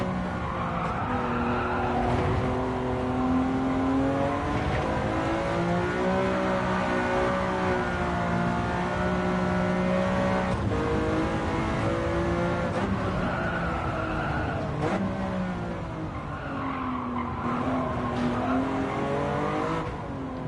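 A classic car in the Gran Turismo racing game accelerates hard, its engine droning loudly and continuously through rising and falling gear changes, with tire squeal mixed in throughout.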